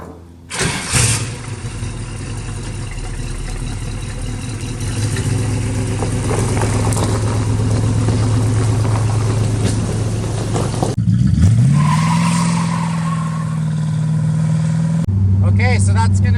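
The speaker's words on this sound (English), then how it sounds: "We got the 68 Firebird convertible on the road for the first time since 1994." A 1968 Pontiac Firebird convertible, back on the road after sitting unused since 1994, cranks and fires up, settles into a steady rumbling idle, then revs and pulls away with rising engine tones.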